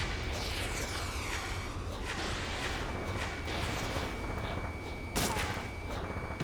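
Missiles and rapid gunfire in a flight combat video game, a dense, continuous barrage of shots and whooshes with a louder burst near the end, no voices.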